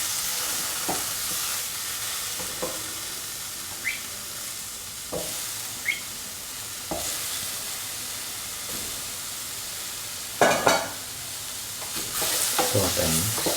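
Tomatoes fry in a pan with salt and onions, giving a steady close sizzle and hiss, punctuated by periodic scrapes and knocks of a spoon stirring, with a louder clatter near the end.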